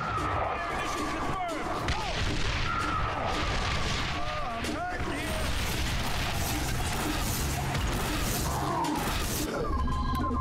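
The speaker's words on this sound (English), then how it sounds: "Fire mission over here. Get me artillery." Artillery barrage in the XCOM video game, a steady dense roar of booms, crashes and impacts filling the whole stretch, with voices talking over it.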